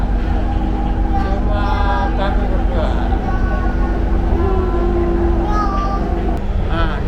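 Inside a light rail LRT train running from the airport station toward Bumi Sriwijaya station, a loud, steady rolling rumble and hum fill the cabin, with an adult and someone talking over it.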